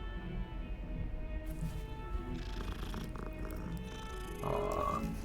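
A cat purring as it is petted in Hogwarts Legacy, a soft steady rumble at low level under game ambience and music throughout.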